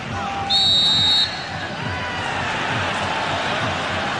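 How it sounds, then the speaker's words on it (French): A referee's whistle blows one long, sharp blast for a free kick during a 1995-96 UEFA Cup match between Betis Seville and Bordeaux, ringing out over steady stadium crowd noise while a commentator talks. "Avec un coup franc sifflé par monsieur Pedersen"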